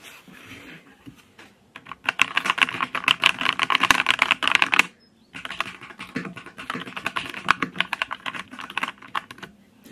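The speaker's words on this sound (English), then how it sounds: "It's a keyboard and it sounds so nice." Fast, steady typing on a mechanical banana keyboard, close and crisp, with a brief pause midway before the clacking resumes.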